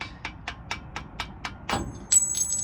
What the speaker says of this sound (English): Just take you a little regular old flathead screwdriver, little hammer. Just drive it out of there.